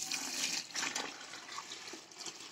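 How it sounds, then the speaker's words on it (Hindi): Water pours into a bucket of white cement in a steady broadband splashing rush, close and fairly loud throughout, with a slight dip partway through. "देखिए इतना ही पानी डालना है जितना में हमारा व्हाइट सीमेंट जो है वो ढक जाए"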